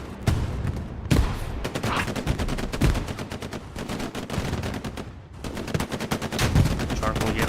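A tank gun fires at a medium Sherman tank in the video game Hell Let Loose amid heavy battlefield gunfire: loud, close, repeated sharp blasts and rapid shots with a voice faintly underneath.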